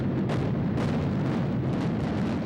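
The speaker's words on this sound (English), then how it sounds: "Small amounts of explosives strategically placed and detonated in sequence." Small explosive charges go off in sequence during a controlled building demolition, heard as a steady, dense, loud roaring rumble with faint bursts rising within it and no voices.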